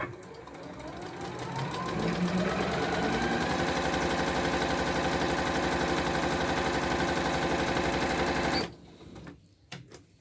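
A Janome 9000 sewing machine runs a simple straight stitch, ramping up to a loud, fast, steady mechanical chatter that holds for several seconds and then stops abruptly, followed by a few faint clicks.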